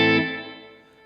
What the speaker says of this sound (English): now we got a hall reverb